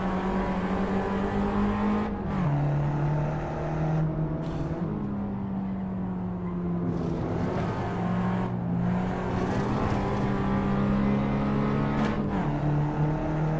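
A race car in a racing video game drones along at high revs, pitch dipping under braking and climbing again with gear changes, continuous and close with faint tire noise and no talking.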